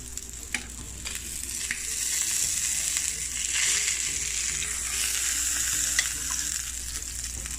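Food frying in coconut oil in a pan, a loud continuous sizzle with occasional clicks and utensil scrapes, close up and free of talk.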